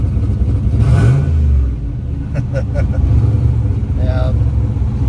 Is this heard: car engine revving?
yes